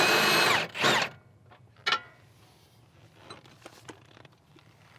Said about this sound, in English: Impact and socket on the back.